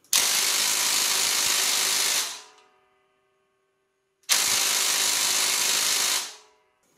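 Ryobi One+ 18V 400 Nm cordless impact wrench running in two loud, close bursts of about two seconds each, separated by a short pause, with a fading whine after each burst; no voices.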